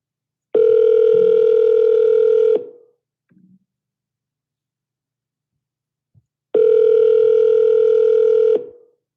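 Two long, loud ringback tones on a phone line, each about two seconds, separated by a four-second silence, steady and clear.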